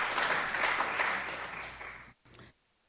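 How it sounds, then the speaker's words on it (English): Audience applause at a symposium, a dense sustained wash of clapping that fades out after about two seconds, with a brief final burst before silence. "give a big round of applause."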